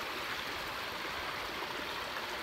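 Overflowing creek near hot springs after flooding, a steady, full rush of flowing water close by with no talk over it.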